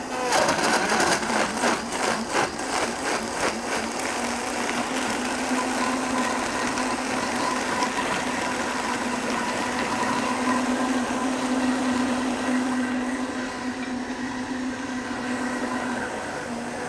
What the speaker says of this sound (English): I'm just going to go ahead and blend this up real quick